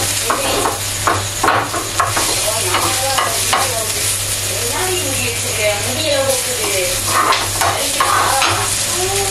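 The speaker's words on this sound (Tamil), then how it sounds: "நல்லா வெங்காயம் மட்டும் நல்லா வதக்கணும்" Onions sautéing in a pan make a loud, continuous sizzle, with frequent scraping strokes of a spatula stirring them up close.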